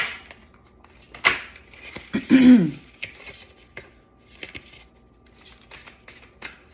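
A deck of cards being shuffled up close: a sharp tap, then a quick fluttering riffle, followed by a few soft clicks and rustles.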